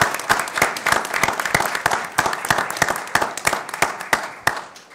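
Applause from the audience at a school board meeting, a modest group clapping in uneven, distinct claps that stay fairly even in level throughout.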